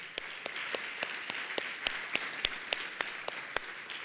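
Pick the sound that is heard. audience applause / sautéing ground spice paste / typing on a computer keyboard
audience applause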